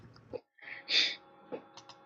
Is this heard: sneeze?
yes